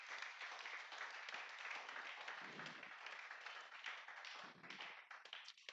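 Church congregation at a Sunday worship service clapping and applauding together, a dense, continuous wash of many hands that holds steady for several seconds before thinning into scattered claps near the end.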